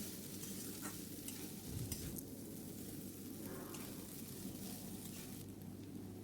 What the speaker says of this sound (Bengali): এরপর আমি চাউমিন আর সব কটা উপকরণ একসঙ্গে ভালোভাবে মিশিয়ে নেব।